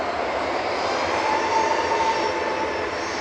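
A Ryanair jet airliner at Manchester Airport, bound for Brussels: a steady, distant engine roar with a faint high whine, constant and unbroken throughout, with no talking.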